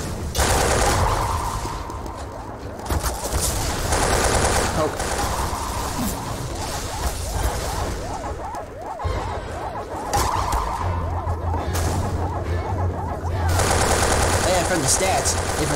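Syringe gun from a Team Fortress 2 boss mod, reskinned as a classic, firing needles in rapid, continuous bursts amid loud game combat noise, with brief pauses and a person talking over it.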